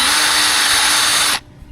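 A power drill fitted with a 1/8 inch bit whirs at a loud, steady pitch while drilling during a Blue Wave pool fence installation, then cuts off abruptly.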